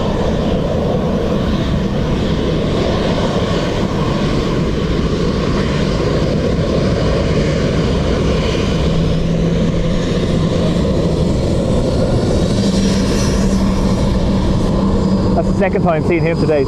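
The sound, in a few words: Turkish Airlines Airbus A330 from Istanbul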